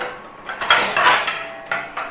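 Metal pan of egg and okra curry being covered with a lid in a home kitchen, a few close clattering clinks and scrapes of lid on pan, no talk.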